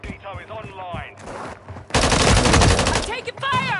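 Rapid automatic gunfire from the Call of Duty video game on PS5 bursts loudly for about a second in the middle, with brief sound effects before and after and a voice talking over the start.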